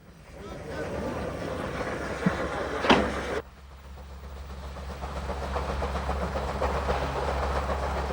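Electric locomotive train running on the Swiss Albula Line, a steady heavy low rumble with a brief louder rush partway through, then a sustained rolling drone.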